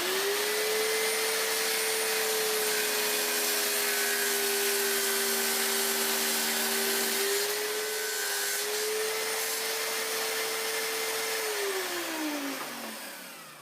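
Power saw ripping through a piece of scrap wood for a homemade marking gauge, a loud continuous whining drone with a steady tone that dips slightly midway and winds down at the end, no talk.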